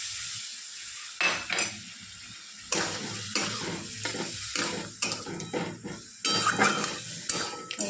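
Yogurt is stirred into vegetables frying in a pan: a spoon scrapes and clinks against the pan in repeated strokes over a loud, steady sizzle.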